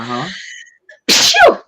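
A single sharp human sneeze bursts out loud and close after a moment of trailing speech, its breathy onset followed by a brief falling vocal tail.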